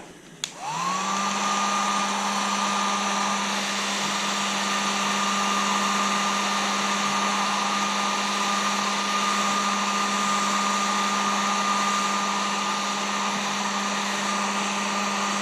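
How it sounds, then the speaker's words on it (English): Heat gun blowing hot air onto plastic motocross bodywork during a Honda CR125R refresh with a new restyle kit, switching on with a click and then roaring steadily with a strong, constant motor whine, loud and close, with no talking. "you don't want to put the heat gun on a fuel tank very long"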